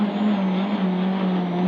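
A Super 2000 rally car screams at high revs on a Galway countryside stage, its engine note held loud and close in a steady, sustained wail.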